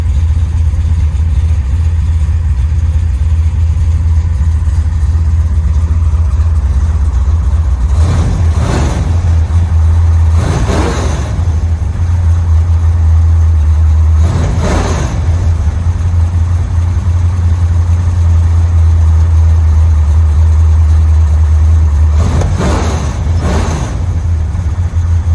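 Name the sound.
1968 Chrysler Newport big block V8 with Dynomax Super Turbo exhaust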